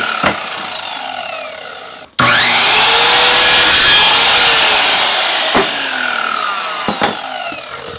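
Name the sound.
sawing a 2x4 wood board into smaller pieces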